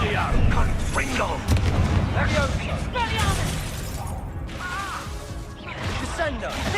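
A Confringo blasting spell goes off in Hogwarts Legacy, heard as loud booming, crashing game effects stacked with other spell sounds and a voice calling out spells over a dense, busy soundscape.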